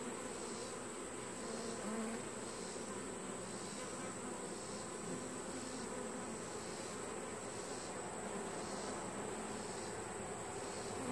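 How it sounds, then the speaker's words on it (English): Honey bees drone continuously around an open hive, a dense, steady buzz of many insects close by, with no talking. "Some big bees."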